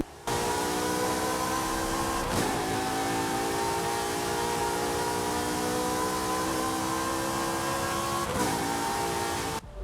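A sustained, high-revving naturally aspirated Ferrari F355 V8 engine drone in Forza Horizon 5, holding a steady pitch with two brief shifts, loud and continuous.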